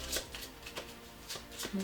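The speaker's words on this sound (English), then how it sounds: "I will shuffle and draw my 5 cards" A deck of playing cards is shuffled at a tabletop during a board game, with several quick riffling bursts in a row, close and moderately quiet, and a voice speaking briefly near the end.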